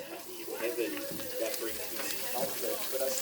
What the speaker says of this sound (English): Listen to that frickin' sizzle, my guys.